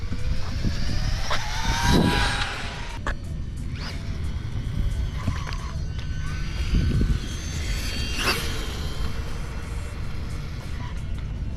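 A Losi Promoto MX radio-controlled motorcycle whines faintly as its electric motor climbs at full throttle, then scrubs and rattles as it brakes, over steady outdoor background noise.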